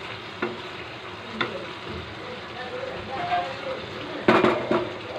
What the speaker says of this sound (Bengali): ঢাকনা খুলে আবার একটু নাড়াচাড়া করে নেব।